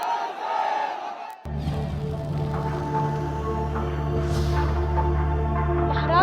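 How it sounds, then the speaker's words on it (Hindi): Dense crowd at Bal Thackeray's funeral procession from Matoshree to Shivaji Park, many voices chanting and shouting together over a low steady rumble; loud and sustained, with a quieter start before the full crowd swells in. "हाथों में बड़े बड़े पोस्टर्स से आवाज गूंज रही थी, बाला साहब अमर रहें।"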